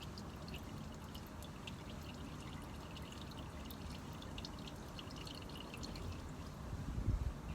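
Motor oil dribbling from a Vauxhall Astra H 1.6 engine into a bucket outdoors on a windy day, a steady soft pouring trickle with wind noise, thickening slightly near the end.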